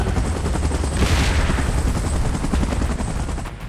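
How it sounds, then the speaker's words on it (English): Helicopter and gunfire in PUBG Mobile during a Godzilla vs Kong and Mechagodzilla battle: a dense, loud wash of rotor thump and rapid shots, continuous throughout. "Chopper in position."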